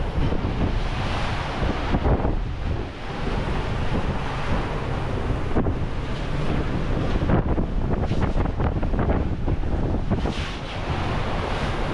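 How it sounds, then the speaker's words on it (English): From a Leopard 45 catamaran at sea in a Pacific storm, strong wind buffets the microphone over confused waves sloshing from all directions, a loud, continuous roar with irregular surges and no voices. "The seas are very confused and it's been a very unpleasant night actually."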